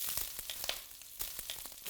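Onion frying in olive oil in a hot wok, a steady crackling sizzle with scattered sharp pops, fairly quiet and close with no voices over it.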